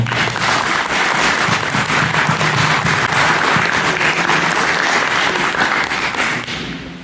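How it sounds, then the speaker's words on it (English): A sustained round of applause from the audience at an Eagle Scout Court of Honor ceremony, a thick, even roar of many clapping hands lasting several seconds before it tapers off. "For that, they need a round of applause."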